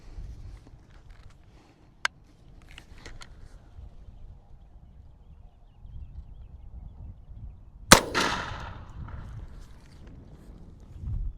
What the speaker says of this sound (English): So now let's take another shot and see what happens.